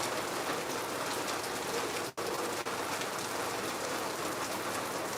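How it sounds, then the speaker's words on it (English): Steady rain falls in Lagos, an even wash of drops on surfaces that has eased from a heavier downpour, moderately close with a brief dip partway through. "So now the rain is not like before."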